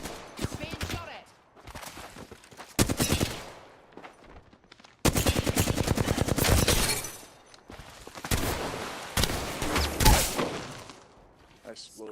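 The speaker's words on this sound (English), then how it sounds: "Being shot at." Gunfire in a video game, loud automatic bursts and single cracks coming in several separate volleys, close and harsh, with a player's voice talking in between.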